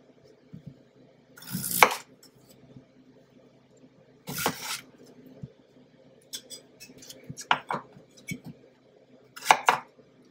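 A kitchen knife quartering potatoes on a cutting board for beef stew, giving about five crisp, separate chops spaced a couple of seconds apart, close and fairly quiet.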